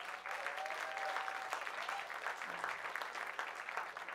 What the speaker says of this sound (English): So again, let's give them a big round of applause.